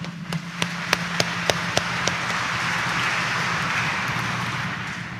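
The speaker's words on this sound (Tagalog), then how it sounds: "pumalakpak ng mas malakas para kay Jesus Nazareno" A church congregation applauds for Jesus Nazareno during a Catholic homily, starting with a run of evenly spaced sharp claps that merge into a steady, roomy wash of clapping.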